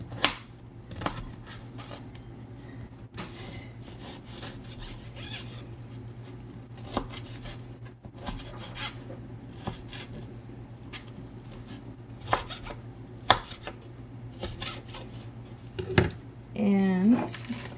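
A knife cuts salmon into bite-size chunks on a board, sparse soft thuds and squishy taps spaced irregularly over a low steady hum, with a voice talking briefly near the end.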